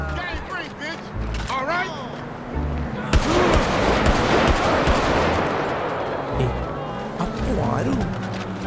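Gunfire in GTA V, a dense burst of shots and rattling fire erupting midway, mixed with game sounds and a voice talking throughout.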